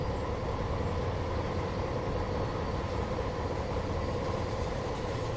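A train in Train Simulator 2021 on the Welsh Marches line between Newport and Shrewsbury rumbles along steadily, a continuous low rolling drone with faint wheel noise.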